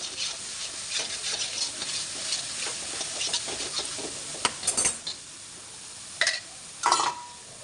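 A spoon stirs and scrapes a thick coconut sweet mixture for Gujarati kopra pak around a pan, lifting the stuck bits from its sides: continuous close rasping and sizzle, with louder scraping strokes near the end and no voices.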